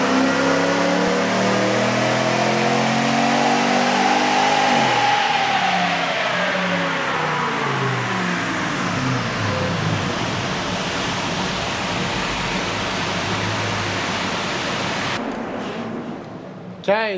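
A RAM 1500 pickup fitted with a full exhaust revs hard on dyno rollers, engine note climbing steadily through a long sustained pull with a roaring, wind-like drone, then dropping off abruptly near the end.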